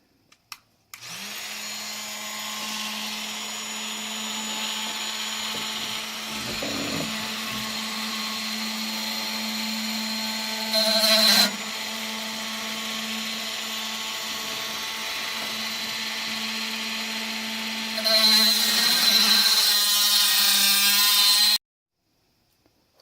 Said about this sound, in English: So I'm gonna cut that with a Dremel.